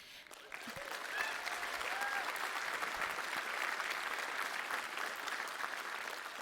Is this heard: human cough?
no